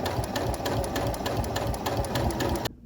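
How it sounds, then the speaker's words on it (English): Sewing machine stitching the lining of a winter cape, a steady fast mechanical chatter with a rapid needle rhythm, close and fairly loud, stopping abruptly near the end. "And now I'll sew the lining the same way that I sewed the shell."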